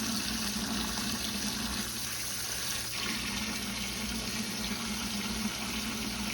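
Tap water running steadily into a large stock pot for turkey stock, a soft continuous rushing splash without talk.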